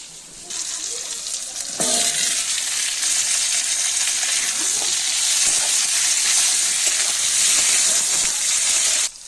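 Tomato, onion and potato sizzle loudly in hot oil in a home kitchen pan, a steady broadband fry that jumps louder near two seconds as more is added and runs on until it cuts off, with faint stirring and clinks.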